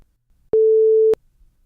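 A single steady electronic alert tone for a transmission, held for about half a second and then cut off sharply, loud and alone against near silence.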